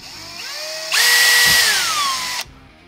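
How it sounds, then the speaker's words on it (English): A power drill spins a small pilot bit through a template while installing a trailer brake controller in a Ford Bronco, a steady high whine that rises sharply for about a second and a half before cutting off. "I'm gonna use a really small pilot drill bit and drill those two out"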